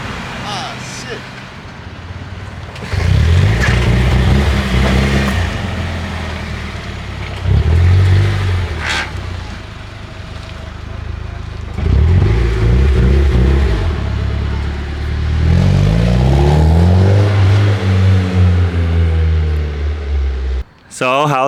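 A slammed Nissan S15 drift car revs hard in repeated surges while drifting, engine rising and falling in bursts, with voices talking over the engine noise at times.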